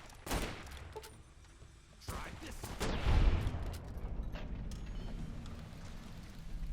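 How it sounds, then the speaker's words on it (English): Gunfire in the game Fallout: New Vegas: several loud bursts of shots, with one heavy blast near the middle, under a continuous noisy background. "Eight shots to the head"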